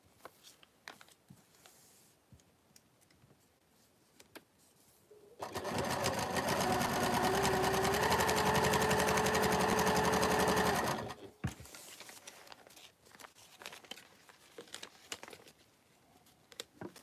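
A sewing machine stitches a seam along a Christmas wall hanging quilt, running in one steady, loud burst of about six seconds, with quieter handling noises before and after.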